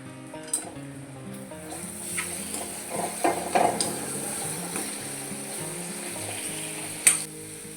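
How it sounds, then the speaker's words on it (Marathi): Mashed banana filling for samosas is stirred in a hot pan: a soft continuous sizzle with a few sharper spatula scrapes and clinks against the metal, close and moderately quiet. "आता सगळ्यात शेवटी हे कुस्करलेली केळी टाकून घेऊ आता ह्याला चांगलं मिक्स करून घेऊ"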